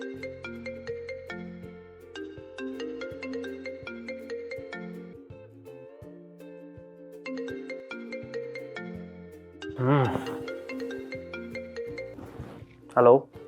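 Mobile phone ringtone playing a repeating melodic tune for several seconds, with brief louder bursts of noise breaking in near the end.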